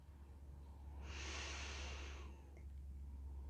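A single deep inhale, loud and close, a breathy rush lasting about a second over a low steady hum.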